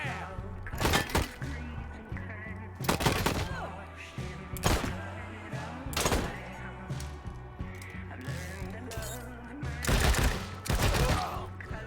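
Gunfire in Wasteland 3 comes in repeated loud bursts, several separate volleys spread across the stretch with short gaps between them, over a low rhythmic game backdrop.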